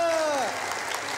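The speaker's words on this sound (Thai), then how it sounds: "ขอเสียงปรบมือ" A studio audience claps together at a Thai television variety show, a steady dense patter filling the moment right after a brief voice at the start.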